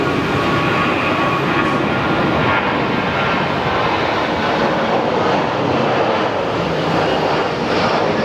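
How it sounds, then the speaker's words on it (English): A loud, steady jet engine roar fills the scene as an airplane takes off at Phoenix Sky Harbor airport, a broad sustained rumble close by with no talking. "watch planes take off"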